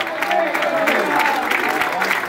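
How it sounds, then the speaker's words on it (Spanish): A congregation claps during a live church sermon, a short, thin burst of applause mixed with voices, moderately loud and steady for a couple of seconds. "¡Qué aplauso más aguado!"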